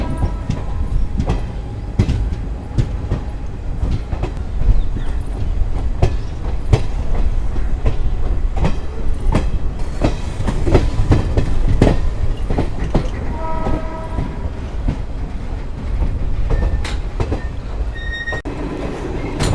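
The Garib Rath Express, a passenger train, rolls along the rails with a loud, continuous rumble, rhythmic clickety-clack of wheels over joints and occasional squeals of steel wheels, heard from on board.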